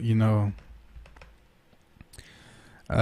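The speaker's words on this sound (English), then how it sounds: "It's so easy just to type" A few light, quick taps on a computer keyboard, entering details into a trading setup page, come faintly between bits of nearby talk at the start and end.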